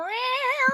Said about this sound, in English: I just heard cats.